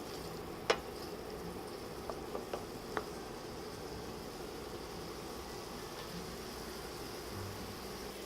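Tomatoes fry gently in a pan for a vegan quinoa dish, a faint, steady sizzle with a few small clicks and taps of utensils early on.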